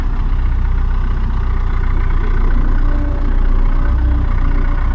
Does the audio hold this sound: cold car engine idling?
yes